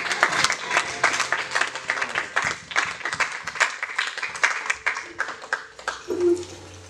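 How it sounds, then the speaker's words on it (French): A church congregation in Lyon, France applauds loudly and steadily, with sharp rhythmic claps repeating for several seconds before dying away. No voices are heard. "Faut t'acclamer très fort."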